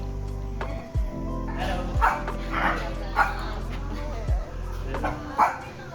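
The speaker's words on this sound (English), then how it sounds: "Shibas, if you guys don't know, are Japanese dogs." A Shiba, a Japanese dog breed, in the Harajuku area of Japan gives several short, sharp barks and yips mixed with whimpers, fairly close, over steady low background hum and murmur.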